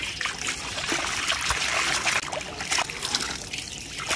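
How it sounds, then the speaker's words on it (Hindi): Water poured out of a turtle tub runs in a close, steady trickling splash that lasts about four seconds without a break. "हाँ चलो ये पानी गिरा दे इधर।"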